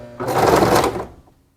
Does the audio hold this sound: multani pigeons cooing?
no